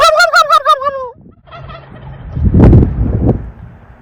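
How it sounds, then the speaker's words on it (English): Wild turkeys gobbling outdoors: wavering, rapid gobble calls at the start, then a burst of louder, rougher gobbling and rustling that rises and fades mid-clip, with no talk. "The turkeys are down here. I can hear them. And if you gobble at them, they'll gobble back."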